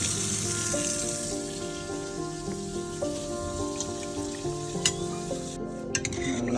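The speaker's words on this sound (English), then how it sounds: "I'm gonna let it heat up, and as it's heating up, I'm gonna smush it down." Grapes heating in a saucepan while being mashed and stirred, giving a steady close sizzle with soft squelching and scraping, with light clicks and a couple of brief knocks near the end.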